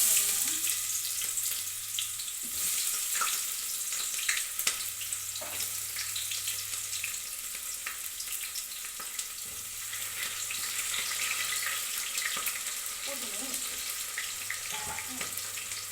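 Onions fry in oil for egg biryani, a steady hiss of sizzling with occasional scrapes and clinks running throughout, and a low hum sounding intermittently underneath.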